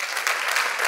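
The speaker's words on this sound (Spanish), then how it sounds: "aplaudimos a las naciones" An audience at a church gathering breaks into applause and ovation, a continuous bright patter of many hands clapping, close and fairly loud, with no talking over it.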